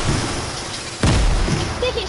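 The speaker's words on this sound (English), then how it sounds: "They threw a grenade." A grenade blasts in a multiplayer shooter video game, one sudden loud boom midway with a rumbling tail, amid game noise and excited player chatter.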